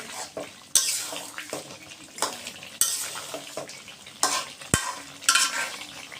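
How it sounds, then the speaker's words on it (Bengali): Chicken curry with boiled taro stirred in a metal pan, close scraping strokes of a spoon against the pan repeating every second or so, with soft sizzling and a sharp clank near the end. "দিয়ে এখন একটু নাড়াচাড়া দিয়ে"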